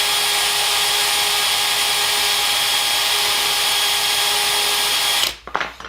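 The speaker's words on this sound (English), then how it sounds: "you just hit the drill and use your file" A drill spins a threaded insert for 3D prints while a file cuts a chamfer on it, giving a loud steady whine with rasping, which stops abruptly near the end followed by a few light clunks.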